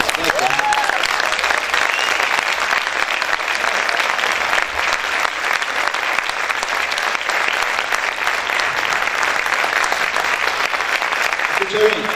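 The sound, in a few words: church audience applause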